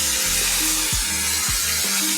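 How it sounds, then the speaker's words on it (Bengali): Chili powder with onion and ginger paste hits potatoes frying in hot oil, a steady loud sizzle running alone throughout with a few soft scraping stirs. "আলুগুলি মোটামুটি ভাজা হয়েছে, তো আমি তাতে দিয়ে দিব 1 চামচ শুকনো লঙ্কার গুঁড়ো, দিয়ে তাতে দিব পেঁয়াজ আর আদা বাটাটা"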